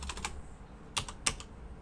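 Keys clack on a computer keyboard in a few quick bursts of typing, followed by a sharper single strike of the enter key, close and crisp against a quiet background.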